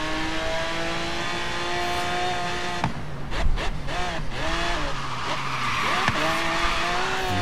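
A car in a Forza Horizon game loses traction and skids, its engine revving high and steady before the tires squeal and slide, loud and close, with no voices.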